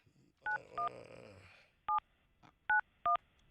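A telephone being dialed, five distinct crisp touch-tone beeps spaced irregularly over a faint low murmur, with a short muffled sound near the start.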